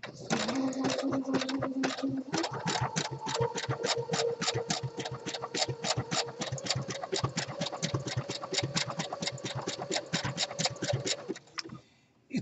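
A sewing machine runs a lock stitch hem on fleece at about 6 millimetres wide with a 2 millimetre stitch length, giving a close, steady mechanical clatter of rapid regular needle strokes for about eleven seconds before stopping.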